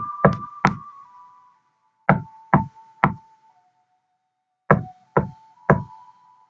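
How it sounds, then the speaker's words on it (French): Someone knocks on a door in three sharp, close groups: two raps, then three, then three. A soft sustained tone hangs between the knocks. "quelqu'un frappe à la porte. Une fois, 2 fois,"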